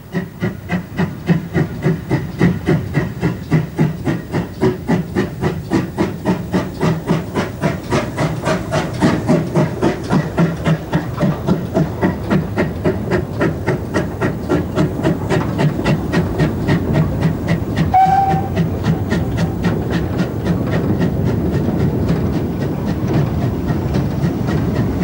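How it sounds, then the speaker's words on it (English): A GWR 1600 class pannier tank steam locomotive in BR livery hauls a goods train, with steady rhythmic clickety-clack of wagons and continuous steam hiss rolling past at close range, loud and unbroken throughout. "Another goods train is seen behind a predominantly passenger type, the 1600 pannier tank, also in BR livery."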